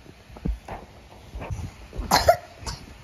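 A child coughs in several short, husky bursts, the loudest two near the end, close to the listener in a casual household setting with faint background noise.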